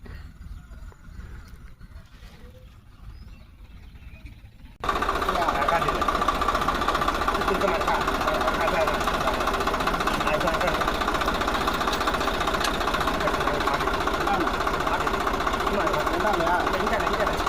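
A ploughing vehicle's engine works a farm field, a steady mid-pitched drone that begins abruptly after a quieter stretch and stays loud and constant to the end.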